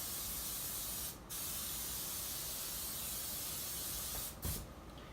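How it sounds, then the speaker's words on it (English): Cooking spray hisses onto a pan in a long steady burst, a brief pause, another long spray, then a short final puff, close and loud. "I'm going to go ahead and spray this so it doesn't, it'll be easier to wash"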